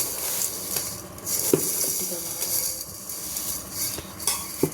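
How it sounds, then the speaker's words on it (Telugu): Semiya and cashews frying in ghee in a pan for Ramzan semiya, with a steady sizzle under repeated stirring scrapes and occasional metal clinks of a spoon against the pot. "నెయ్యిలో ఫ్రై చేసుకుందాం ఇవన్నీ సేమియా, జీడిపప్పు అన్నీ"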